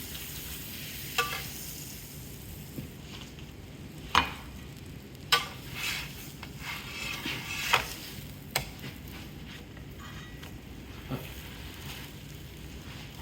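A quesadilla sizzles in butter in a pan, with a steady soft frying hiss broken by several sharp scrapes and clacks of a spatula at irregular moments, close and fairly quiet.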